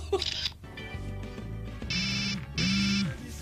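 A polyphonic ringtone from a Bluetooth mobile phone plays short, bright repeated tones in bursts, fairly close and clear, amid other background sounds.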